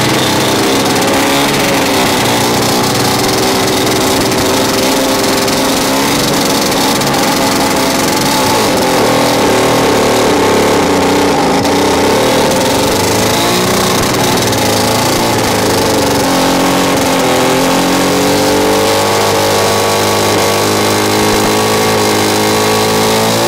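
A DT-54 crawler tractor engine runs loud and close in a steady, throbbing idle with a rough mechanical clatter, holding continuously with slight shifts in pitch and no voices.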